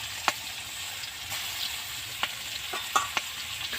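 Pangas fish pieces fry in plenty of oil in a wok, giving a loud, steady hiss and crackle. A few sharp clicks from stirring or turning stand out, with no speech.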